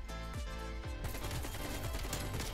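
Rapid automatic AK rifle fire in the video game Black Ops Cold War, a dense, loud stream of shots layered over game music with no pauses, near and continuous throughout.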